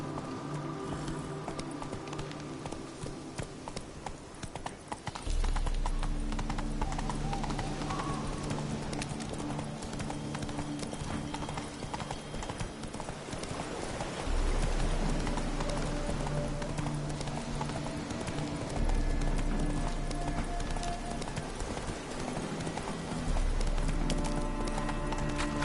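Roach, a horse in The Witcher 3 on PS4, clip-clops steadily on hooves, the rhythmic trotting running throughout over low game music, with brief bursts of louder hoofbeats.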